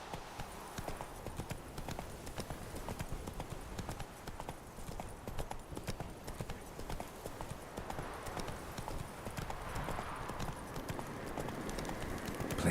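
Rapid hoofbeats of a horse galloping in The Witcher video game, a steady close drumming clip-clop running continuously with faint ambient game sound.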